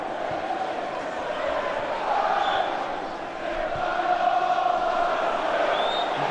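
Football crowd at Preston versus Liverpool in an FA Cup third round match, a broad distant roar of chanting and cheering swelling slightly, with a commentator's voice over it.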